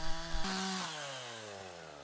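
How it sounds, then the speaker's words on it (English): A chainsaw engine drones and bogs down as it cuts a tree, pitch sliding lower over a couple of seconds, fairly close. "Thank you for coming back with your chainsaw."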